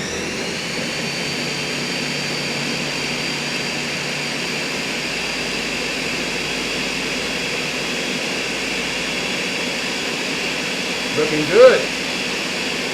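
Ninja blender mixing Soylent powder runs as a loud, steady whirring roar for the whole stretch, with a brief voice speaking near the end over the motor.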